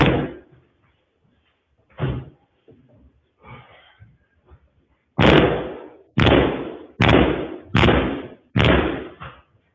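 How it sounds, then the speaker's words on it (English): A door kicked in during an eviction lockout: a few scattered knocks, then five loud, heavy slamming thuds in a steady rhythm about a second apart, close and forceful, with no talking. "He just kicked the door open."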